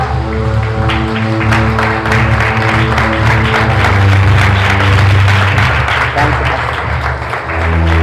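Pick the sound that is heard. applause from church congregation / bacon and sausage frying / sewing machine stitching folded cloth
applause from church congregation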